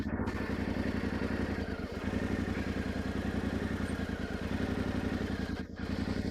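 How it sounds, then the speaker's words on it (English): A Yamaha Tenere 700 adventure motorcycle engine held at a steady, slightly opened throttle on a steep slope, a continuous close mechanical drone with a brief dip partway through, alone without speech. "I need to open the throttle a bit and keep it steady while controlling everything else with the clutch."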